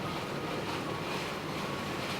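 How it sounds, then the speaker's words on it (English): Strong Cyclone Cook wind blowing steadily in Tauranga, New Zealand, a dense, even rush of air with no gusts or breaks, heard alone with no talking. "starting to whistle around the windows, the wind"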